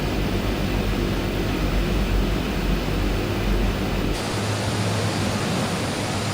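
Twin Otter twin-turboprop engines droning steadily in a flight simulator as the plane taxis to the runway, a dense, loud broadband roar heard alone that shifts slightly in tone partway through.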